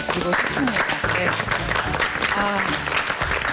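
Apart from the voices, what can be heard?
studio audience applause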